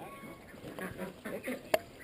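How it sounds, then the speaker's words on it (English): Farm duck bathing, a few soft quacks and faint splashy rustles at close range, with a sharp short sound near the end and quiet background voices. "kind of duck is taking a bath right now?"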